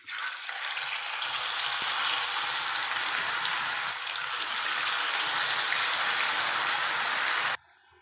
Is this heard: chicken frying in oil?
yes